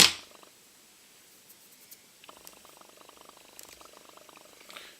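Small scissors snip fly-tying materials to length at a tying bench for a perch streamer, a quick run of faint, close clicking cuts after a brief loud onset.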